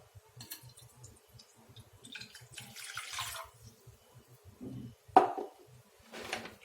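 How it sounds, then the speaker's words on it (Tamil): Water trickles and splashes in short bursts as it is poured into a tumbler, fairly quiet and close, with small clinks and no talking. "தண்ணி பார்த்திங்கன்னா இந்த டம்ளரில் நான் ஒரு ஃபுல்லாக ஊற்றுறேன்."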